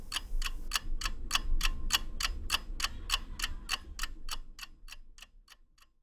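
A clock ticking in a steady, even rhythm of about three crisp ticks per second, close and clear, fading slightly toward the end.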